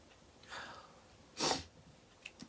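A single sharp sneeze at close range, with a short breathy intake just before it and faint sniffs after, set during a curly hair treatment at home.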